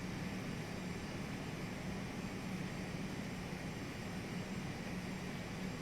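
Simulated engines of a BAe RJ100 regional jet on approach in FSX, a faint, even jet and airframe roar that holds steady throughout with no pauses.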